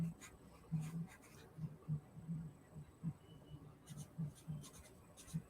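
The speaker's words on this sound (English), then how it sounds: "Also, yes, Daryl, I'm writing that down for you now." A pen moves across paper as a note is written by hand, giving soft, scratchy strokes in a steady rhythm of short bursts. It is close and quiet against a low background hum.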